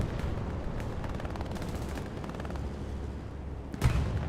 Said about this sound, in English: Strafing run heads on over.